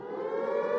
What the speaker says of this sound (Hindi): भिकारिस्तान में सायरन का गलत इस्तेमाल।